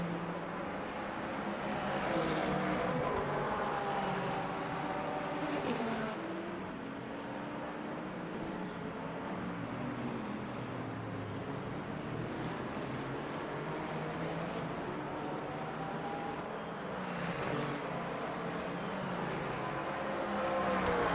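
Mustang and Porsche GT3 race cars lapping at Portimao in Le Mans Ultimate, a steady, loud engine roar with shifting pitch as the cars run close together, continuous throughout with no speech.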